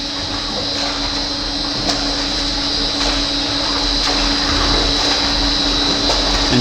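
Swimming flume machine running steadily throughout, a constant mechanical drone with a steady tonal hum and broadband whir, near and continuous with no talk.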